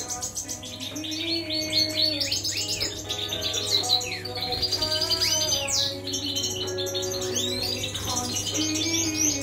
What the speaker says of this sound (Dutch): Deze jaar hele mooie vogels, Abi.